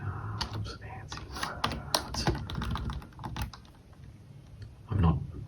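Keystrokes on a computer keyboard while entering a command in a terminal, a steady run of light close clicks with short pauses, under low background hum and a brief louder bump near the end.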